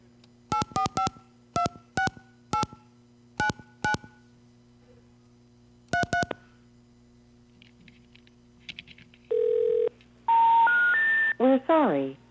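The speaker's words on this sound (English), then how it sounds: "let me go dial another phone number for you." Telephone keypad DTMF dialing tones from a phone-phreaking demonstration, a rapid series of short dual-tone beeps in quick bursts, followed by a steady tone and a rising sequence of network signal tones, clear and alone without talk.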